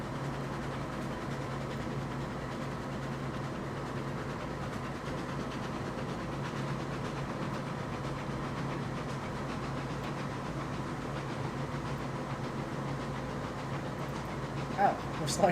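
A steam train from the video game Railroads Online rolls along the track with a steady low rumble and faint rhythmic clatter, continuous and moderately distant, rising slightly at the end.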